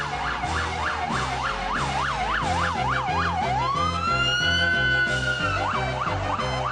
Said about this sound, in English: Do I hear police sirens in the background?